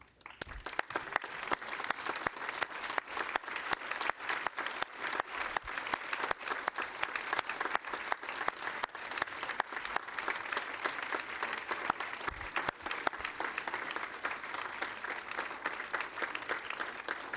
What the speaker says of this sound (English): If they could rise so we could give them a round of applause